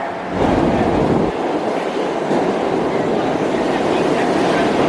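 New York City subway B train running, a loud steady rumble of rail and car noise throughout with wind buffeting and faint voices underneath.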